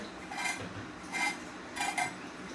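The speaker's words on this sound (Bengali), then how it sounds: "পটলগুলো এরকম করে চেঁচে নিই।" Pointed gourds (potol) being scraped by hand, giving three short bursts of rasping scratches with pauses between, close and moderately quiet.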